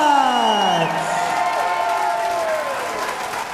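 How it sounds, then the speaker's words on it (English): An MMA crowd at a Cage Rage UK event claps and cheers after a win, a loud sustained roar with a sweeping musical tone layered on top. "a round of applause for your runner-up, Michael Brown"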